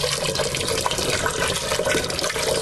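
Water from a tap runs steadily into a cooking pot, filling it about halfway for barley, a continuous close rushing splash with no voices.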